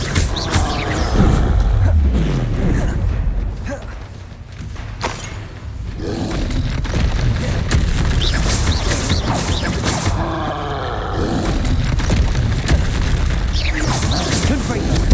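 Confringo fire spells blast repeatedly amid Hogwarts Legacy combat, booming thuds and roaring impacts in a dense, loud mix with a voice calling out spell names throughout.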